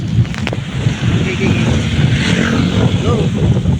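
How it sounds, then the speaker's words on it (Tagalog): Strong wind roars and buffets the microphone in heavy low gusts, with a voice faintly audible beneath the rumble. "malakas na yung hangin"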